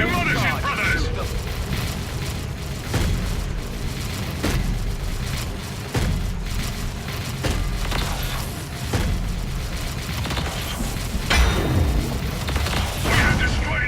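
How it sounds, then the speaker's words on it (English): Heavy booms and blasts from a Warhammer 40k: Dawn of War 3 battle as a listening post is destroyed, repeated loud explosive thuds over a constant rumbling din, with a voice speaking throughout. "The listening post is destroyed"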